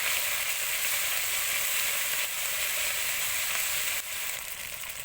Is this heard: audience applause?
no